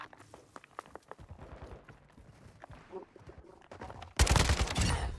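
Gunfire in Call of Duty Modern Warfare 2: scattered sharp shots and rapid clicking, then a loud dense burst of automatic fire near the end, all fairly close with faint background game noise.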